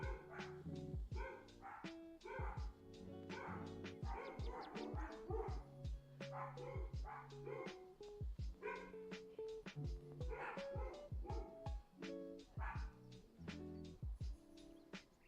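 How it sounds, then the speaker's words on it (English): Several pet dogs barking and yipping indoors at a window cleaner working outside, in repeated excited bursts over about fifteen seconds, moderately loud and fairly close, with occasional whimpers between the barks. "If you guys can hear my dogs, I apologize."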